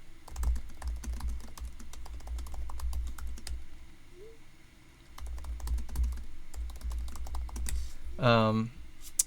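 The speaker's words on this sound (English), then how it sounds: "Let me just text a few people." Keyboard typing of a text message: a quick run of soft, close clicks at a steady pace, with faint background sound underneath and a short louder burst near the end.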